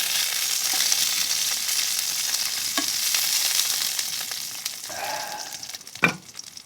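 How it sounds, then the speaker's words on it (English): Sausages frying in a pan give a steady bright sizzle throughout, with a few soft clicks of a utensil against the pan and a short clatter toward the end. "So we're going to cook up these sausages."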